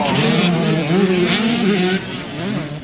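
A 125cc motocross bike, number 93, revs hard during an MX125 race in Thailand. Its engine note is loud and close, wavering up and down with throttle changes throughout.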